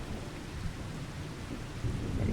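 Steady rain and rumbling thunder from a stormy Farming Simulator 25 game world, a dense continuous wash of rainfall with low booming thunder, loud and close throughout, growing slightly heavier near the end.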